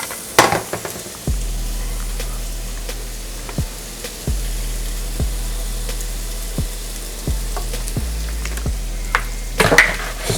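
Stir-fry sizzles in olive oil in a hot pan, a steady hiss with repeated sharp clicks of stirring at regular intervals, close and moderately loud with no talk.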